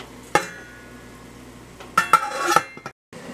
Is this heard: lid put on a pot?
yes